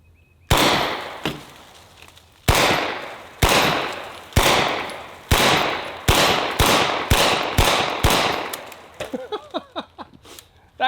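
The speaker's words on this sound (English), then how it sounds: "So we're gonna see how much damage we can do to this thing with the 9mm Sterling." A 1940s-era British 9mm Sterling submachine gun firing hollow point rounds outdoors, loud sharp reports in spaced single shots, then a quicker run of bursts, with debris tinkling at the end.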